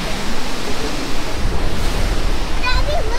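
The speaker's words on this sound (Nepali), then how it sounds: "यो चाहिँ वान अफ द झरना हो" A waterfall beside a mountain hiking trail in Nepal: a loud, constant rush of falling water mixed with gusty wind buffeting the microphone, with a faint voice briefly audible near the end.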